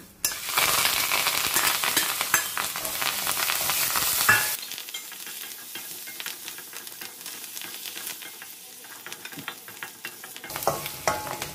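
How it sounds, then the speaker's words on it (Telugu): Ginger, green chilies and curry leaves hit hot tempering oil in a pan for a Telugu raw jackfruit pulihora curry, bursting into a loud, crackling sizzle that then settles into a softer, steady frying hiss with stirring. "ఇప్పుడు ఇందులో అల్లం, పచ్చిమిర్చి ఇంకా కరివేపాకు ఇది వేసేద్దాము."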